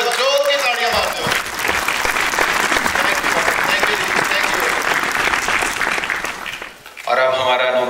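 A festival audience at a Sikh arts and film event claps loudly and steadily after a performance, a dense sustained burst with a brief dip near the end and a voice speaking over the final seconds.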